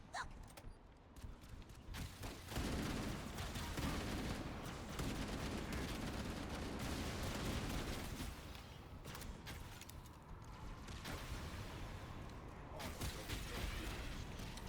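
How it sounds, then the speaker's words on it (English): Explosions and gunfire in the Halo: Campaign Evolved video game, a sustained roar of blasts and rattling shots with bursts rising and falling, fairly quiet overall, with occasional faint talk. "I don't even know where that explosion came from."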